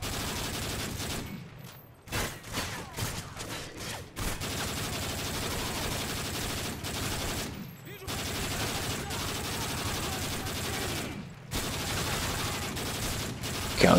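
Gunfire in the Call of Duty Modern Warfare 3 video game, Survival Mode on a boardwalk map: sustained dense bursts of automatic shooting with a few brief gaps, loud and continuous.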